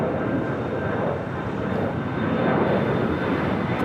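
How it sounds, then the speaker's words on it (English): A Boeing 787-9 Dreamliner of Air Tahiti taxiing at LAX after arriving from Papeete, its engines giving a steady, loud broadband roar with a faint high whine, heard alone without talking. "That was Air Tahiti Flight 102 coming from Papeta, the 787-9 Dreamliner."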